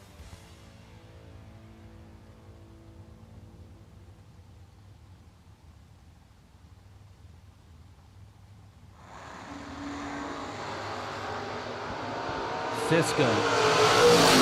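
A Camaro and a Nova at a drag race launch together, a broad roaring engine rush swelling loud in the latter half after a quieter idling stretch, with a commentator's voice heard briefly over it.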